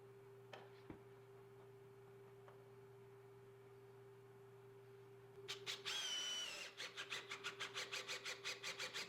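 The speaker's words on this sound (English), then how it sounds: "this hole that I'm drilling down here is for the other end of our metal pivot" A power drill bores a hole for a metal pivot in a vertical queen Murphy bed frame. A steady low hum comes first, then a near, loud whining drill with rapid pulsing bursts over the last few seconds.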